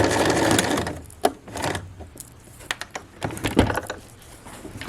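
Sewing machine backstitching along a pants seam at a bulky section, heard as a short whirring run of stitches followed by irregular clunks and knocks from the machine and fabric handling. No speech.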